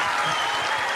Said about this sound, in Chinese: 大家鼓掌一下